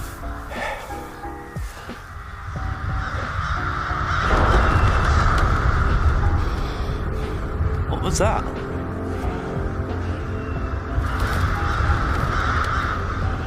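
Crows caw in a Vikings TV episode, with repeated harsh calls over a battlefield scene with rumbling background sound, while people talk over it.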